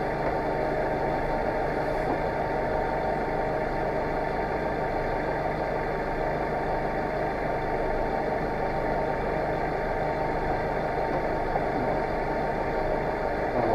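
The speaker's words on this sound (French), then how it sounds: "t'as plus qu'à rentrer le tracteur tout doucement" A tractor's engine idles as it is driven slowly into place during a driving test, a steady, even mid-low drone heard up close and alone for the whole stretch.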